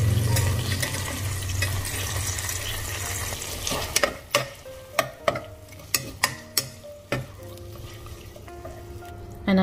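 Mint, coriander and gongura leaves roasting in a pan for gongura mutton biryani: a constant sizzle broken by a run of sharp spoon clanks and scrapes as the leaves are stirred, close up.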